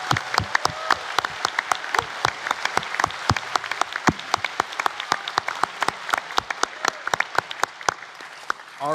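An audience at the National Science Bowl 2025 high school finals claps for both competing teams, a moderate crowd of distinct, crisp handclaps that carries on steadily before ending.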